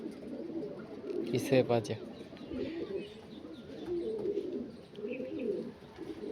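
Andhra kalanka pigeons cooing softly in a loft in Dankuni, Hooghly, with a brief louder burst of flapping or fluttering and low murmurs under someone talking nearby.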